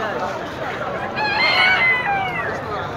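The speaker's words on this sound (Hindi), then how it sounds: "देसी मुर्गी।" Native desi chickens at a large Friday bird market in Mecca, with bright crowing and clucking calls rising over a steady crowd hubbub and background chatter.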